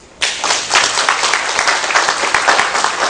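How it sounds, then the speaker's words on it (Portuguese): A class of Sunday school children in a church setting clap their hands together on cue, a dense burst of group clapping that starts abruptly and carries on steadily and fairly loud with no talking over it. "todos batem palmas"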